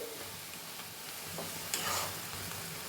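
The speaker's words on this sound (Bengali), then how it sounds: "এরপর এই পর্যায়ে মিলিয়ে দিচ্ছি ম্যারিনেট করা চিকেনটা" Marinated chicken is stirred into a hot pan, giving a steady low sizzle with scraping spoon strokes and a louder burst of frying near the end, with no talking.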